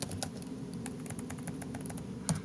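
Fingers tap at a computer keyboard, quick light keystrokes close by at a steady pace with a slightly louder press near the end.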